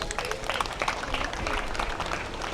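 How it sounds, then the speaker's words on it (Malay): Applause from an audience at a school fire safety training drill, a steady broadband patter of many hands clapping for a couple of seconds, fairly close and even throughout. "Okey, bagi tepukan."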